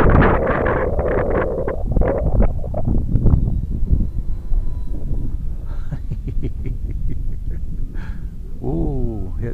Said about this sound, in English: Some wind there.